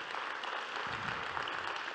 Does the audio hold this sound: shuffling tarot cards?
no